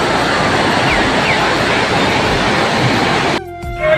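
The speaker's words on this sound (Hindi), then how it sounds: "और ये है तिलवाड़ा की मंदाकिनी नदी जो आती है केदारनाथ से।" Mandakini river flowing at Tilwara, a loud continuous rush of fast water filling the scene, which drops away abruptly near the end.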